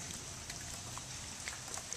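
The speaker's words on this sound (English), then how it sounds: "And now it's just a little rain." Light rain falling after a hail storm makes a faint, steady hiss with a few scattered drops, low in level and continuous throughout.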